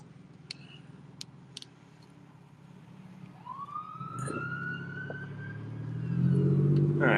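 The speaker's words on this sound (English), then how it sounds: "Most likely an ambulance." An ambulance siren rises and wails as it approaches and passes close by, growing louder over steady traffic rumble.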